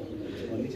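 A male Lahori pigeon gives a short, low, soft coo, close by in a pigeon loft.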